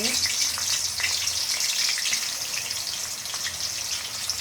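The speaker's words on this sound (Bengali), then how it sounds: "এখন হচ্ছে আমি একটু ভালো করে হালকা করে একটু ভেজে নেব" Spice paste for a bottle gourd and red lentil dish fries in a pan, giving a steady, close hiss that holds even throughout, with no one speaking over it.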